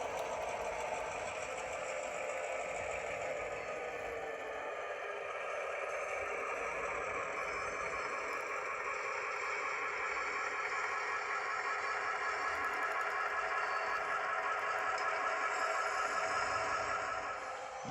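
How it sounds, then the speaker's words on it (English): Model train locomotive, engine 2003, runs smoothly on a layout near the Trout Creek Bridge, giving a faint, steady mechanical hum and fine rhythmic clatter that continues evenly without talk. "Very smooth running engine."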